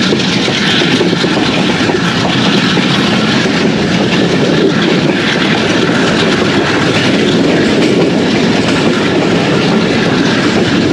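Pakistan Railways' Allama Iqbal Express runs between Pattoki and Lahore behind a Blue Tiger diesel locomotive, a loud, steady rolling roar with rhythmic wheel clatter heard from on board.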